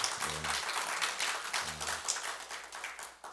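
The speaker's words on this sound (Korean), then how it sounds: "우리 격려의 박수 한번 쳐줄까요?" Church congregation applauding in encouragement during a Sunday sermon, a faint, steady patter of many hands with a couple of low tonal bursts under it.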